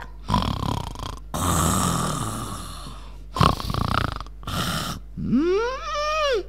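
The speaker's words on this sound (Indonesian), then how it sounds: "Mendengkur ngorok ya" Loud, raspy snoring in several long drawn-out breaths with short pauses between, ending in a rising and falling whistle-like tone.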